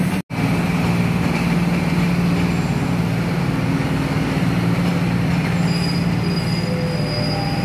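Inbound Thai passenger train number 356 rolls past on the line near Ban Nong Praduk, a loud continuous rumble of wheels on rail with squealing steel tones throughout, steady and close with no voices.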